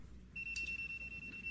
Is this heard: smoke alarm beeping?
yes